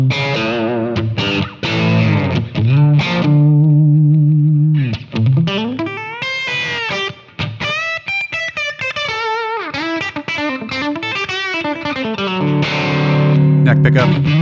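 Electric guitar played through a Kemper profile of a Dr. Z amp at a medium-high gain setting, recorded direct, rings out in sustained distorted chords and melodic lines with a chorus-like shimmer, loud and continuous without any voice over it.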